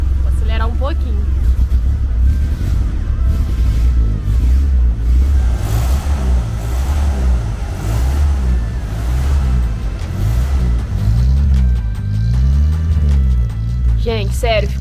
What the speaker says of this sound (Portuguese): Vou acelerar um pouquinho.